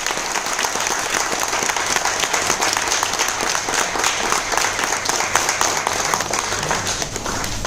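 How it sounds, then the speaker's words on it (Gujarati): Applause from an audience at a full-day training session: steady, dense clapping from a crowd that holds evenly throughout without a break. "તાળી આવી જાય જોરદાર."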